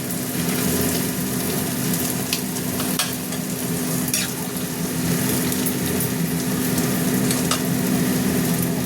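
Hilsa fish curry with potato and eggplant simmers in a pot, giving off a steady bubbling sizzle with scattered pops over a faint constant hum.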